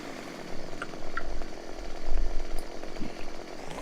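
A chainsaw cuts a tree into lengths of wood for a trailer load, its engine droning steadily and rising into louder bursts as the chain bites, with no voices over it.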